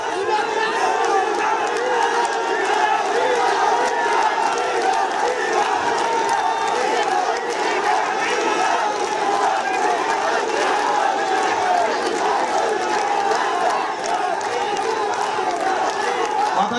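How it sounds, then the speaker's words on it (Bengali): A large crowd shouts and chants slogans at a political rally in Bangladesh over the demand for a Cumilla Division, a steady, loud roar of massed voices and cheering that runs unbroken throughout. "এই দাবিটি যদি চিল্লালে লাভ হবে না ভাই, ঠান্ডা মাথায় কথা শুনতে হবে।"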